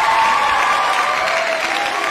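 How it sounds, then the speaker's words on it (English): A played-back virtual round of applause rings out as a dense, steady wash of clapping and crowd noise, holding fairly even for about two seconds with a faint tonal hum running through it. "let's hear that virtual round of applause again"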